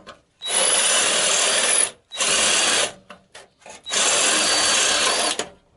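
A power drill bores out spot welds on a car bonnet during bodywork, in three loud whining bursts separated by short pauses and a few light clicks.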